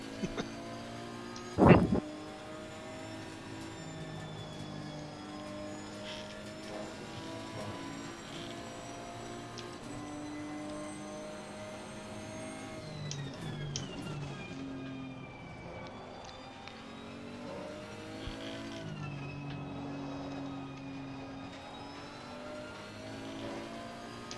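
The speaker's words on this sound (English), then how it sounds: "Then we can both hear the sounds of the car." Racing cars in a Nurburgring video game drone and rev, engine tones rising and shifting steadily throughout, with a sharp loud knock near the start and moderate level overall.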